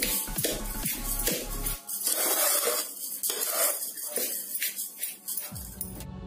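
Grated coconut and sugar are stirred together in a bowl for coconut burfi, with scraping and clinking of a spoon against the vessel in uneven strokes, close and fairly clear.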